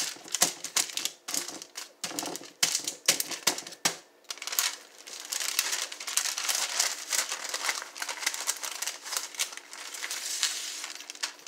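Parchment paper peeled away from a thinly smashed hamburger patty: crinkling, tearing and crackling paper sounds, close and uneven, with brief bursts early on and then a sustained rustle.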